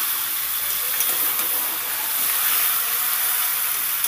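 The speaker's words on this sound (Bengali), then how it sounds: "নারকেল পোস্তটাকে দিয়েও আমি 2 থেকে 3 মিনিট সুন্দর করে কষিয়ে নেব।" Coconut and poppy seed paste sautés with chickpeas in a pan, making a continuous close hissing sizzle with faint stirring scrapes and no speech.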